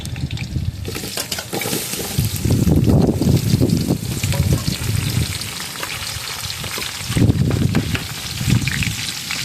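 Onions frying in a pan while cooking chicken biryani, a loud continuous sizzle that swells and fades in waves, with occasional clatter and no talking.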